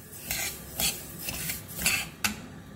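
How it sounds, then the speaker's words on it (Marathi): Sesame seeds dry-roast in a kadhai for jaggery tilgul vadi while a spoon gives about five soft, scraping stirring strokes. The strokes come at irregular intervals over a quiet background. "सर्वप्रथम कढईमध्ये तीळ 1-5 मिनिट चांगले भाजून घ्यायचे आहे।"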